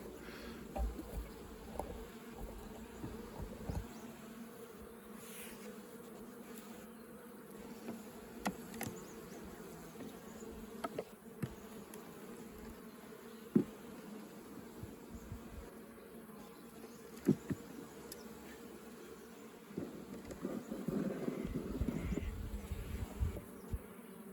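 A few honey bees from a hive with a young queen, late in the year, hum in a faint steady drone, with occasional sharp clicks and knocks and a louder buzz near the end.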